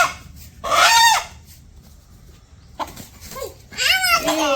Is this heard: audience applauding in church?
no